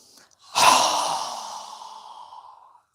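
A single strong exhale through a wide-open mouth during a yoga breathing exercise, a close, breathy whoosh that starts abruptly and fades steadily over about two seconds, heard alone with no talking.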